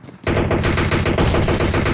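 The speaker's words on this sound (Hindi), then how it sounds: "अंधाधुंध यहाँ पे फायरिंग चल रही है" Rapid automatic gunfire in a battle royale shooter, a dense, loud burst of shots starting abruptly after a brief quiet moment and continuing without pause.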